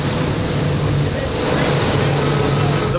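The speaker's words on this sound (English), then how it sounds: "The boat still has a ton of power. Like I'm half throttle right now, and it's just freaking pushing." A motorboat running at half throttle and still pushing hard: a loud, steady roar of engine and rushing water mixed with heavy wind buffeting on the microphone, constant throughout the whole stretch.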